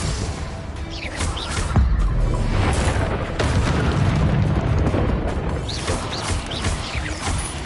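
Booming spell explosions from the Confringo curse in Hogwarts Legacy, a dense, loud rumble with repeated crashing bursts layered over game effects, no speech.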